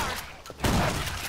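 A short burst of rapid gunfire from Left 4 Dead 2, a few quick shots about midway through the brief moment, moderately loud amid game ambience.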